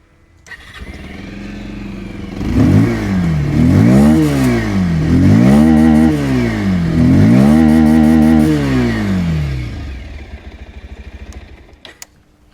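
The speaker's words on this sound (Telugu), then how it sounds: "పల్సర్ 150 ట్విన్ డిస్క్ యొక్క ఎగ్జాస్ట్ నోట్ అయితే ఒకసారి విందామండి." Bajaj Pulsar 150 Twin Disc motorcycle revved several times, its exhaust note rising and falling in repeated throttle blips close by, then settling back to idle and cutting off, with no talk.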